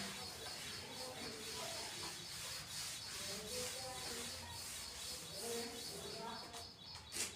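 A duster rubs across a classroom blackboard during a Class 10 maths lesson, giving a steady broadband scrubbing that runs near-continuously for several seconds with faint chirps and background hubbub underneath.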